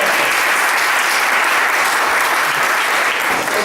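A crowd at a church convention breaks into sustained applause, a thick, even wash of many hands clapping at full strength throughout.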